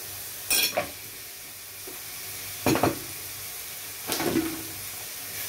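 Beef ragù ingredients sautéing in a pan with butter, heard as three short bursts of sizzle and stirring scrapes spaced a couple of seconds apart over a quiet background hiss.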